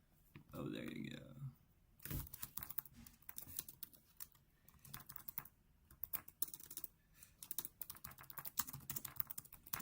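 Rapid clicking keystrokes on a computer keyboard, irregular bursts of close, crisp taps after a brief voice at the start, continuing steadily with small pauses.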